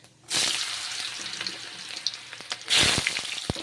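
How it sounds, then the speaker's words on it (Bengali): Ridge gourd pieces hit hot oil already seasoned with panch phoron, bursting into a loud, steady sizzle with sharp spatters, easing slightly before a second surge of frying as more gourd goes in. "ঝিঙেগুলো ভেজে নিচ্ছি গরম তেলে ভেজিয়ে নিচ্ছি"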